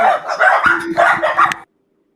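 A dog barks and yips several times in quick succession, loud and close, before the sound cuts off abruptly.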